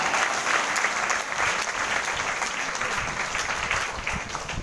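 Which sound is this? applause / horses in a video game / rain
applause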